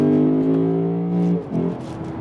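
2020 Lexus GS F engine revving hard after a downshift, a loud close harmonic growl that climbs steadily, then dips briefly before pulling again.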